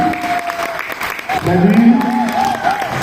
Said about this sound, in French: Si on veut les applaudir,